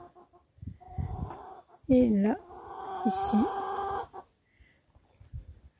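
Red hens cluck and squawk close by, with a few louder drawn-out calls in the middle, while someone talks to them in French.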